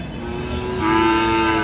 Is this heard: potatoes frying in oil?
no